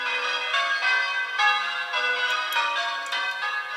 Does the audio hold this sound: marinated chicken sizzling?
no